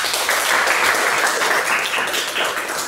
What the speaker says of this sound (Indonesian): Silakan tepuk tangan untuk kalian semuanya.